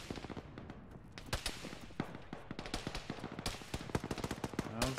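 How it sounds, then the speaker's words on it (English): An autocannon vehicle fires in the Arma military video game, a dense run of rapid gunshots and repeated bursts that rattle on continuously, fairly distant and loud in places amid other battle noise. "there's some kind of autocannon Vic southwest speed from us"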